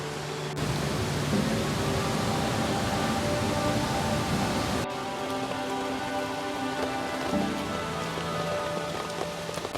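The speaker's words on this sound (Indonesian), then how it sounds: "Ini hujannya tidak terlalu deras tapi sangat awet." Steady light rain falls in a forest, a dense even patter on leaves and ground that stays constant throughout with no voices.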